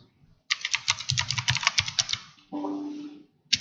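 Rapid clattering keystrokes on a computer keyboard run for about two seconds in a dense, irregular burst, then someone briefly speaks.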